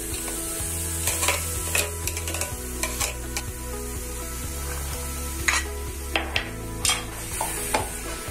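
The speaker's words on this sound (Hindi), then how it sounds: "तो जब तक तड़का उधर हमारा थोड़ा सा लाइट ब्राउन हो जाए, तो तब तक हम ये आलू और जो ब्लैक चने हैं उसको मिक्स कर लेते हैं।" Boiled potatoes and black chickpeas are mixed by hand in a bowl while a tadka sizzles nearby, giving soft, irregular squelches and taps over a steady frying hiss, with a few sharp clinks of utensils.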